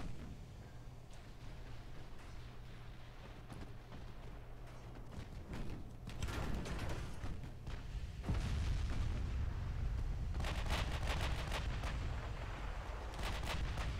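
Heavy naval main battery guns fire repeatedly in the video game Ultimate Admiral: Dreadnoughts, with 15- and 16-inch shells booming over a constant low rumble of battle, the blasts growing denser and louder in the second half.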